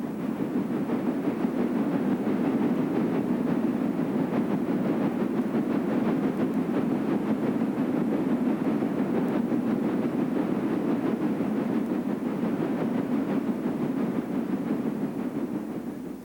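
C&O Class J2 Mountain steam locomotive, a 1923 Richmond Works engine, hauling a freight train near Brookville Tunnel; a steady, continuous loud rumble of rolling cars and locomotive with no distinct exhaust beats, sustained throughout without talk.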